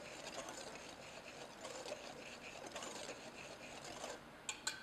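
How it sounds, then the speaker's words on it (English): Dry baking ingredients including baking powder and salt being whisked together in a bowl, a faint, quick, rhythmic scratching with a few light taps at the end. "I'm just going to whisk these all together"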